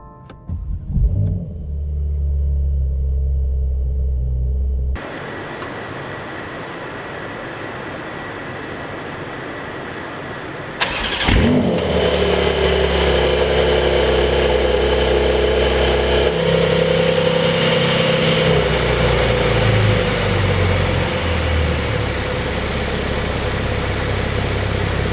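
A Porsche 911 992 Carrera S, 2020 model, fires up after a quiet idle-like hum, the engine catching with a loud bark then settling into a steady, throaty idle that drones on, with no talking.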